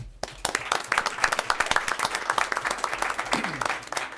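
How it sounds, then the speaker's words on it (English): An audience at a school board meeting applauds with a steady ripple of many hands clapping for about four seconds, fairly close and moderately loud, with a little talk mixed in. "Let's give him another round of applause."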